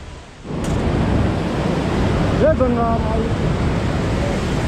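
A river flows beside the Kedarnath trekking route in Uttarakhand, a steady loud rushing wash that starts up after a brief quieter moment, with a short chirp heard partway through.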